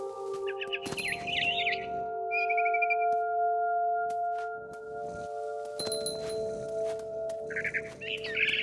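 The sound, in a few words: bird chirping in video game What Remains of Edith Finch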